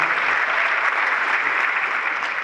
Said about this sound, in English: give Nate a real big round of applause